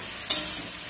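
Spices with turmeric powder hit hot oil in a pan, giving a single brief, sharp sizzling hiss that fades quickly into a quiet background.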